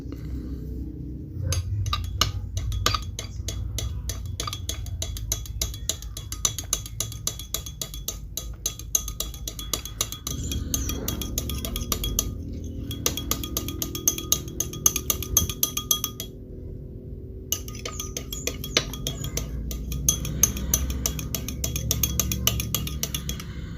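Glass container of alkaline soap mixture being stirred, with steady clinking and scraping of a utensil against the glass, close and continuous with brief pauses.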